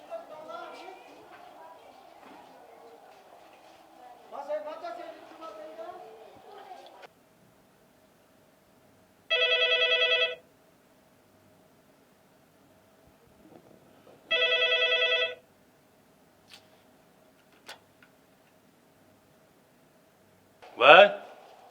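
A telephone rings in two loud electronic bursts of about a second each, several seconds apart, following a stretch of talk and a short sound at the end, in a comedy scene.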